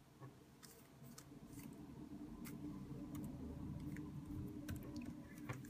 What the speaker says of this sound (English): I'm just going to type in print.